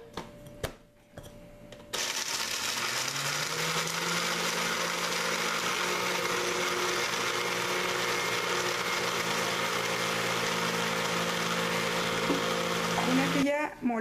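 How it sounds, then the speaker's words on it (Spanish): A blender grinds vanilla cookies into powder in one long, loud, steady whirring run of about twelve seconds, close up, with brief clatter as it starts and stops. "Y vamos a moler por partes para que se muela muy bien. Vamos a hacerla completamente polvo"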